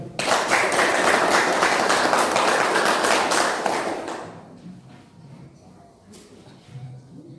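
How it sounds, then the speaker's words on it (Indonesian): A classroom group claps for about four seconds, a dense burst of applause that then fades to quiet room noise with a few scattered taps. "Tepuk tangan sekali lagi."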